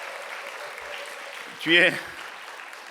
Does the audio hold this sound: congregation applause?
yes